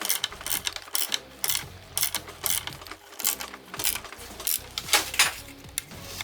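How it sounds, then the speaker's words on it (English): A 5/16 bolt is fastened through the base of an industrial-style lamp, giving a quick, irregular run of metallic ratcheting clicks and small clinks, fairly quiet and close, with no talking. "We are gonna bolt this to this base with some 5/16"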